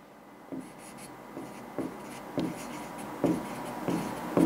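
Pen strokes scratch across a board during a class 11 math lesson on sequences and series, short quiet scrapes repeating in an irregular rhythm with no voice.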